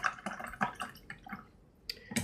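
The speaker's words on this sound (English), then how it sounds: "rinse this off in my water" A paintbrush being rinsed in a cup of water while watercolor painting, giving a series of soft close drips, swishes and light clinks that come in short uneven bursts, then a brief pause before a few more.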